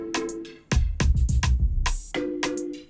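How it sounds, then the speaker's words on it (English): Two layered, growling bass synths with drums in an Afrobeat instrumental, loud and dense, with punchy low-end hits and a bright melodic layer on top, playing alone without any voices. "those two basses together with the drums sound like this"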